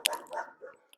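A couple of short, sharp barks come from a neighbor's dog, faint and brief, with a quieter yip trailing after.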